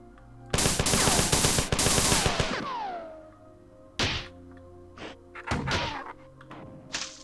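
Rapid automatic gunfire as enemies shoot each other in the 1994 first-person shooter Marathon: a long loud burst, then scattered single shots, thuds and echoing impacts, with no talk.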